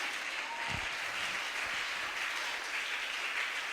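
A church congregation applauds during a Pentecost service, a dense and continuous wash of clapping that holds steady and fairly loud from start to end, with no clear voices above it.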